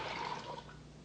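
Lukewarm water pours steadily into a bowl holding dry yeast and sugar, a brief close splashing stream that tapers off slightly.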